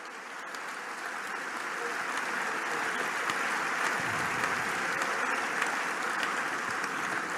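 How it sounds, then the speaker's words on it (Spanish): A church congregation applauding during a sermon, a steady, sustained wash of clapping that builds slightly and holds throughout at moderate distance. "Fuerte ese aplauso"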